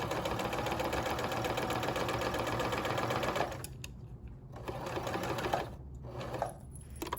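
A sewing machine sews straight along a zipper with a steady, rapid chatter for about three and a half seconds, then goes quiet and starts again in a few short bursts.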